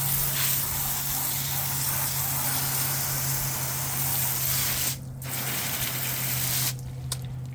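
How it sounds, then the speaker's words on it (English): Steady, loud water spray hissing across car wheels during a rinse, continuous with a couple of brief breaks near the end. "So we're going to give these a real good rinse, making sure we get all that product off of there."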